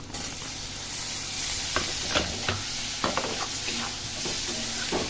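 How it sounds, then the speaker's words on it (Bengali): Spices and tomatoes being stirred and fried in a pan in a cramped home kitchen in Kolkata, with a steady sizzle and repeated scraping stirs close by, and no talking. "ওইটা ভালো করে নাড়াচাড়া করে নিই আর এর মধ্যে আমি টমেটোগুলো দিয়ে দেবো"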